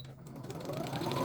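A sewing machine runs steadily for a short burst, stitching fabric along a line for foundation piecing, with a close, even mechanical whir and rapid needle ticking and no voices.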